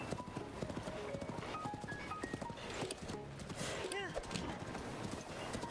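Hooves of a horse in the game Breath of the Wild clip-clop in a steady, close rhythm beneath a busy layer of game music and effects, while someone talks over it.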